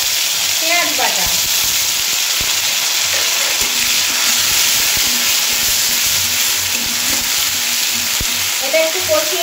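Garlic and onion paste sizzles loudly in hot oil for a tilapia fish jhal, a steady dense frying hiss throughout with faint stirring scrapes underneath.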